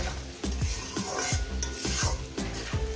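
A spatula scrapes repeatedly through potatoes and onions frying in a pan, in a steady rhythm of strokes over a continuous loud sizzle, close up.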